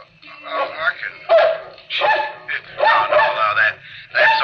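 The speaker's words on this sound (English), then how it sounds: "Stop barking. Stop barking. Stop barking. Barking." A dog barks in a 1958 radio drama, a string of short, sharp yipping barks in quick bursts, close and fairly loud, with pauses between them.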